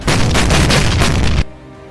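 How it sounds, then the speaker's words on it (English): Olifant tanks' main guns firing together in a battle, a single loud, close, sustained blast that cuts off abruptly into a low rumbling tail. "The Olifants immediately initiated a fire melt action, all firing simultaneously at any suspected targets."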